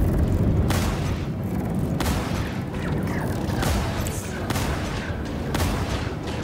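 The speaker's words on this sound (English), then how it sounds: "Someone, I think, is shooting at me." Spaceship weapons fire in the space combat game Star Citizen, an Arena Commander pirate swarm fight flown in a Freelancer ship: a dense, continuous roar of repeated heavy blasts and booms at a steady rhythm, loud and close, with no talking.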